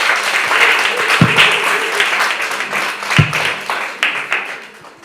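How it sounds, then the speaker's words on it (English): Applause for young children at a school speech event on ending child abuse: steady clapping from an audience fills the whole stretch, loud and dense, with a couple of sharper thumps partway through and a gradual fade at the end. "Let's give these little ones an applause."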